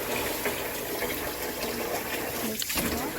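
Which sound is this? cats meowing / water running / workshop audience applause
water running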